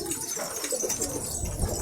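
Pigeons coo softly in a loft with a brief flutter of wings, close and fairly faint, with no talking over the birds.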